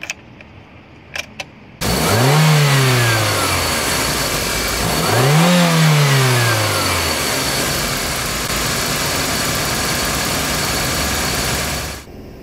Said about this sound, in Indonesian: kita test drive dulu mobilnya